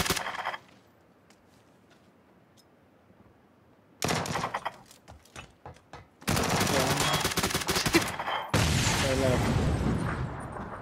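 Gunfire in PUBG: a loud burst at the start, then quiet, followed by sustained heavy automatic fire and booming shots in the latter half, with voices talking over parts of it.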